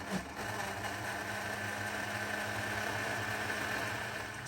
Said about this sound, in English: So I'll be blending the veggies first before I add our cucumber